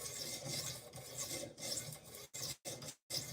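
A knife blade rasps across a PDT whetstone of 325 and 1200 grit in repeated sharpening strokes, a close scraping rhythm of about half a dozen passes with brief pauses near the end.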